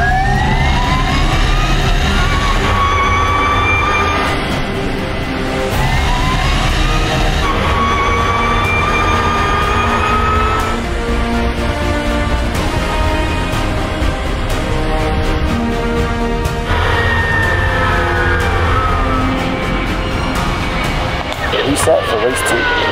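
Formula E race car and airplanes accelerating down a runway, a rising electric whine with sweeping tones over steady engine roar, loud and continuous throughout, with radio-style voices mixed in.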